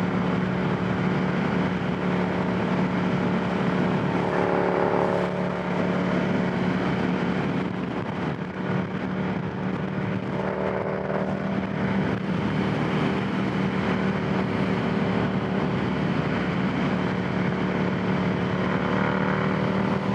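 Steady drone of a Ducati Monster 797 motorcycle engine heard while riding, a continuous low hum with wind rush that holds fairly even, slight swells in pitch, no speech over it.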